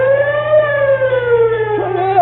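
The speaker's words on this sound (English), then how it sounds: "Say, Eb, how does the siren sound?" A brand-new fire engine siren wails steadily on its own, its rising and falling tone sustained throughout with no voices over it.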